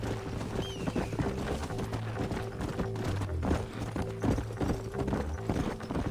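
Horse galloping in the video game Red Dead Redemption, a steady rapid clip-clop of hooves running continuously over a dense backdrop of game music and ambient effects, with a faint voice now and then.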